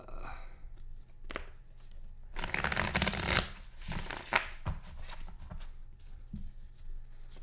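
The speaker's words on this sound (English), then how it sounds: "whenever they come up, I shuffle the deck" A deck of playing cards is shuffled during a tabletop football game replay, with bursts of riffling and bridging, crisp papery flutters coming close and fairly loud, separated by short pauses and handling clicks.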